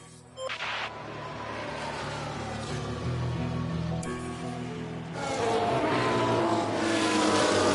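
Formula 1 cars in F1 Manager 2022 head out of the pit lane during qualifying, a steady engine drone that swells louder near the end.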